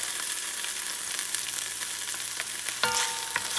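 Olive oil fries in a pot for a chickpea and summer sausage stew, giving a steady, loud, close sizzle throughout with a few stirring clinks and no talk.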